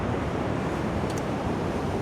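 Steady, roaring wind buffets the microphone in a continuous low rumble, with no voices.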